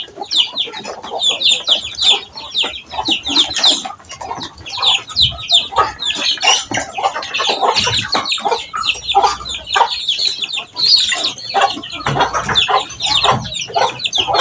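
A flock of chickens being fed ground corn clucks and squawks continuously, with many close overlapping calls and a busy, loud chorus throughout.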